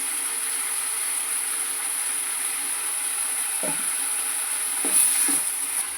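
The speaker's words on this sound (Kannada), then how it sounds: "ಇದು ಈಗ ಫ್ರೈ ಆಗ್ತಾ ಇದು ಬೆಂದಿತಾ ಇದೆ ಅಲ್ವಾ" Brinjal pieces fry in a pan with salt and turmeric for a tomato gojju, giving a steady, continuous sizzling hiss with a few faint clinks near the end.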